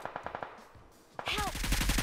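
Rapid automatic gunfire from a teammate shooting from above in PUBG, a quick burst of repeated shots that swells louder midway with sharp ricochet-like whines mixed in.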